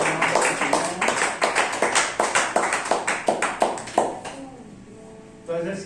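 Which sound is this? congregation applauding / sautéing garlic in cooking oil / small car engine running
congregation applauding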